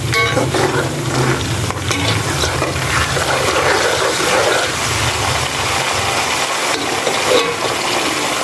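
Garlic-ginger paste and crushed green chili fry loudly over onions in a pan, a dense continuous sizzle with stirring scrapes throughout, close and without talk.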